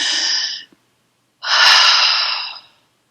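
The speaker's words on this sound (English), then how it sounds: "So you do the 4 short breaths like this." Rebirthing breathwork: two forceful, airy breaths separated by a short silence, each a loud, close rush of air through the mouth, the second longer and stronger than the first.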